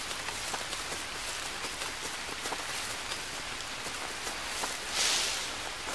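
Rain falls in the jungle survival game Green Hell, a steady hiss of drops pattering on leaves and surfaces, fairly loud and continuous with a brief swell of heavier rain near the end and no talk.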